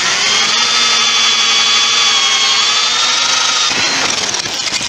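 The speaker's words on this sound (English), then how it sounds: "it's very easy just to drill them out with a 1/4 inch drill" A 1/4 inch power drill bores out aluminum rivets on an Atlas snowshoe binding, a loud close steady whine with a shift in pitch near the end as the bit breaks through.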